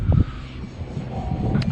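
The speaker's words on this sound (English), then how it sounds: "I'm sorry about the noise in the background, there's a crane working" A crane works in the background near a moored Bali 4.1 catamaran, giving a steady low mechanical rumble with a faint engine drone that runs through the whole short stretch.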